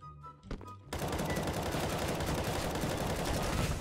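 Rapid auto-sniper gunfire in the video game CS:GO, a dense sustained volley of loud shots that starts abruptly after a brief quieter moment and continues steadily to the end.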